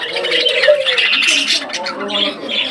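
Many budgerigars in a shop cage keep up a busy, overlapping stream of sharp chirps and squawks, near and steady from start to finish.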